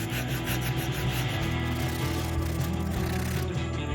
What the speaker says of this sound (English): I enjoy sanding at the very beginning